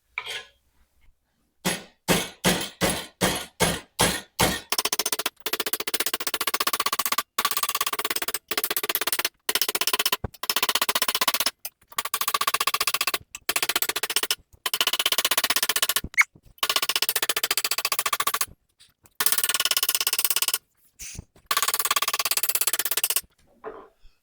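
Rapid metallic hammer blows ring out flattening sheet metal on a 1948 Willys pickup, first in quick separate strikes, then in dense bursts of continuous pounding broken by short pauses.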